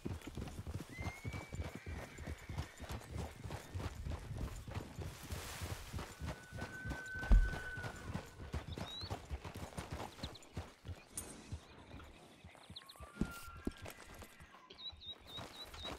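Horse hooves clip-clop at a steady walking rhythm in Red Dead Redemption II near Saint Denis, close and clear, with an occasional whinny and faint game sounds in the background.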